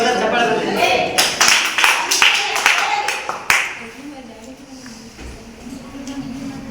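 Schoolchildren in a classroom clapping together, a loud burst of uneven handclaps for a few seconds that dies away into quieter room noise as a teacher's voice continues.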